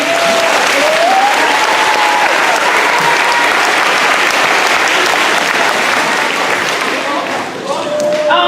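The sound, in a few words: audience round of applause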